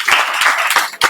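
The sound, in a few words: students applauding loudly in a chemistry class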